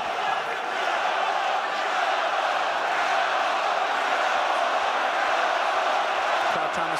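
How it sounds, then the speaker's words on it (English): Boxing arena crowd roaring and cheering for Luke Campbell during his fight with Vasiliy Lomachenko, a broad continuous wash of distant voices with no pauses. "Crowd trying to spur Luke Campbell on,"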